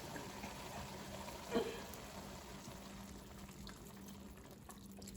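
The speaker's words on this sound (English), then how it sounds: "we're just gonna pour it up to about the rim of the pot" Liquid poured steadily into a pot for French onion soup, a continuous close splashing wash with a low steady hum beneath and one brief spoken word.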